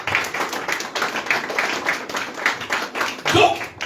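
A church congregation claps in a brisk, uneven patter of many hands to acclaim the King of Kings, with voices speaking over the applause.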